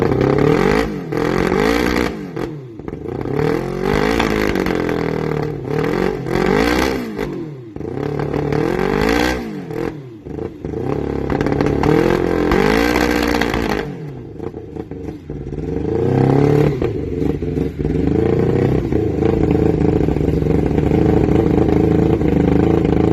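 A 1990 Yamaha FZR600 free project bike with a damaged case runs loud and close, its engine revving and rising in repeated sweeping bursts, with no talking.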